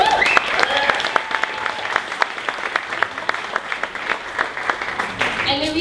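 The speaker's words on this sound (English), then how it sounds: "So can we please give them a round of applause?" An audience applauds a group of eighth-grade students at a business pitch meetup, with steady sustained clapping from a crowd and a few faint voices over the top.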